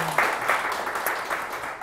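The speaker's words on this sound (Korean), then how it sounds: "여러분들 다시 한번 힘찬 박수 부탁드리겠습니다." Audience applause at a violin concert, a dense, steady patter of many hands clapping that fills the short moment at moderate volume.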